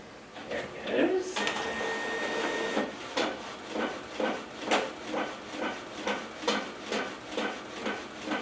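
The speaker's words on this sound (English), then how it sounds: "So now we're just going to wait for that to print out and we'll be set." A photo printer running a high-quality photographic print: a steady whirring stretch followed by a regular series of rhythmic mechanical passes, close and moderately quiet.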